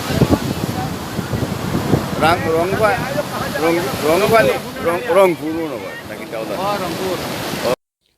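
Sea waves and surf at Marina Beach in Chennai, a steady rushing wash with gusty wind noise on the microphone, while voices talk over it throughout before an abrupt cutoff.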